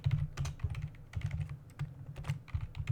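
Code is typed on a computer keyboard in quick irregular bursts of close, crisp key clicks with short pauses between, no voices.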